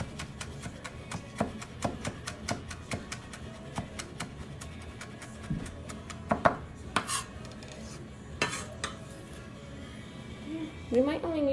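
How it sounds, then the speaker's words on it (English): Knife dicing vegetables finely on a cutting board while making nachos, giving a run of quick, fairly close taps in uneven bursts, with clinks of dishes and a voice talking at times. "Slicing it really thin, using my fingers to guide the knife. Dicing it really small."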